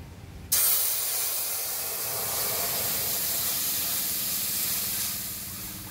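Sour broth poured into hot oil with mustard seed tempering bursts into a loud, steady sizzling hiss after half a second of quiet, holding strong for several seconds before easing slightly at the end.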